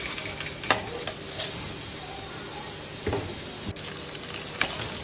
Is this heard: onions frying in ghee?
yes